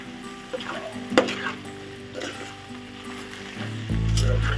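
Okra and dried shrimp curry stirred in a pan, with soft scrapes and a brief sharp clink over a low, steady background sizzle, a hum rising near the end.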